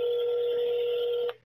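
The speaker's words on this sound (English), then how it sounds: "the freaking phone rings for 2 seconds" A telephone rings once with a steady electronic tone lasting about a second and a half, close and clear with no talk, then cuts off abruptly.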